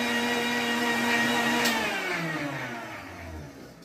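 Kitchen mixer pulsing cream into homemade butter, a steady close whirring motor that holds loud then winds down with falling pitch over a few seconds.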